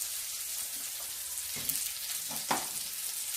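Pollock fillet fries in a little olive oil with a steady, close sizzle, and a few brief louder crackles and stirring sounds come through near the end.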